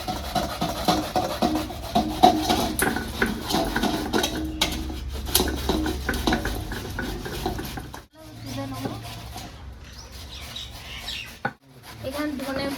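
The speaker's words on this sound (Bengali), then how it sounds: "তো বন্ধুরা বাঁধাকপি আমি গ্রেটটা দিয়ে গ্রেট করে নেবো।" Cabbage rubbed over a kitchen grater with rhythmic rasping scrapes and clinks of utensils, fairly close and busy, for a Bengali cabbage kofta dish; the scraping eases off near the end.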